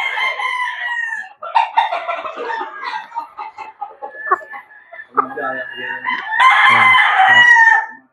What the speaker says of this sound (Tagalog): Ito pa yung isang pulit uli na Boston Roundhead.